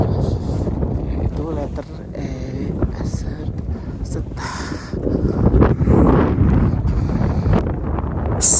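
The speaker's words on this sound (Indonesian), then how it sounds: "angin masih tetap bertiup kencang" Strong wind buffeting the microphone on the summit of Mount Rinjani, a loud continuous roaring rush that stays steady throughout, with people talking underneath it.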